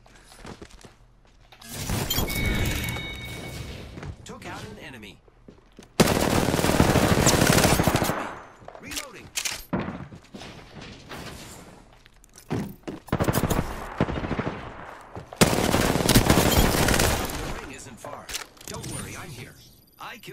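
Bursts of automatic gunfire from weapons in the battle-royale shooter Apex Legends, in several loud stretches with mechanical clicks and rattles between them and a voice talking over parts.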